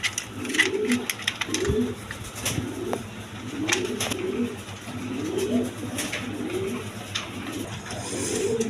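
A pair of large Maltese pigeons coo repeatedly at close range, rhythmic throaty rolling calls recurring every second or so over faint background noise.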